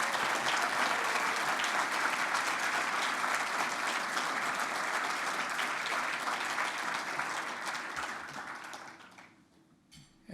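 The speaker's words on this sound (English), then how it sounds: "Let's have another round of applause for all our award winners" Sustained applause from an audience at a civil society awards ceremony honoring award winners, a dense even wash of clapping for about nine seconds before it thins and fades out near the end.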